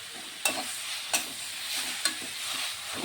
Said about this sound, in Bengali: আমি এখন চাল কুমড়োগুলো দিয়ে দিচ্ছি। ভালোভাবে নেড়ে চেড়ে ঢেকে দিতে হবে